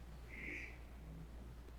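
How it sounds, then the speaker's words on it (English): A short, raspy squawking call from a crow in the inner courtyard of B block at the old Nevada State Prison, faint and distant over a steady low hum. "Crows do make that noise."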